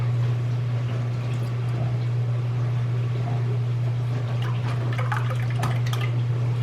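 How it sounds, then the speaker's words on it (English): Chicken broth pours and splashes steadily into a slow cooker, close by, over a constant low electrical hum. "I'm going to put about 3/4 cup of chicken broth in here."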